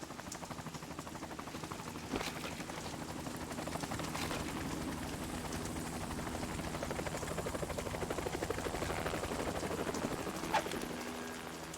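A steady, continuous video game helicopter drone with rapid rotor chop, from Metal Gear Solid 2, holding close and even for the whole stretch, with a couple of faint sharp knocks.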